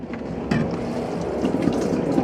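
A portable toilet in a van is flushed, a close, moderate gush of water rushing into the bowl for a couple of seconds.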